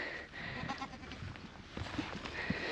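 A young goat kid bleats a few short, thin cries amid a busy barn background, near and moderately loud, with no talk.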